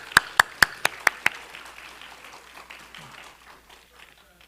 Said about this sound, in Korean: 한번 박수하겠습니다